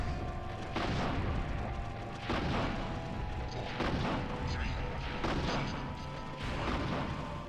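Rockets fire at a monster in Resident Evil 3: Nemesis on PS1: a series of heavy, booming blasts roughly every second and a half over a constant loud rumble.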